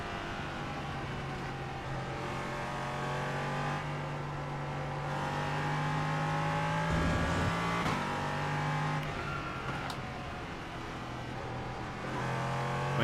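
An LMP3 race car engine droning steadily over several seconds, its pitch shifting as the revs rise and fall, fairly loud and alone.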